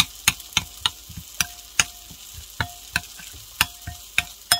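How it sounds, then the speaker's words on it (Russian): Eggplant is stirred with a salty seasoning sauce in a frying pan. Sharp, regular scrapes and taps of the utensil sound roughly every half second over a faint sizzle, close up with no voices. "И все хорошенечко перемешиваем."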